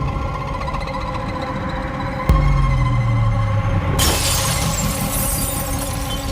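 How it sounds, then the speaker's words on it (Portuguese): Glass-like crystal ornaments shatter in one sudden sharp crash, followed by a low resonant rumble, a steady engine-like drone underneath and a later burst of bright hiss. "esses cristais se quebram, a Vanessa é atingida na fonte"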